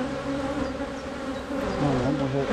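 Honeybees hum at a hive in a dense, steady buzz of many insects close by. The pitch wavers as individual bees pass near.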